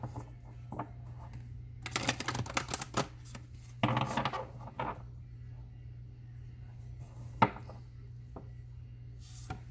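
A deck of tarot cards is riffled and shuffled in two short bursts over a low steady hum, followed by a few soft taps and clicks.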